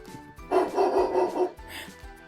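A dog gives a short run of rough, rapid barks close by for about a second, followed by a fainter bark.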